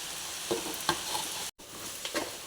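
Ground masala fries in a little oil, a soft steady sizzle with a few faint stirring scrapes, close and quiet with no voices.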